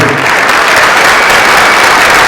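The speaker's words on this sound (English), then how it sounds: "how about one more hand for our accompanist, Alex Borden?" An audience at a middle school concert applauds the accompanist, steady and loud clapping filling the whole short stretch.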